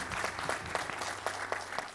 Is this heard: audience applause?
yes